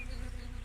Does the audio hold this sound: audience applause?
no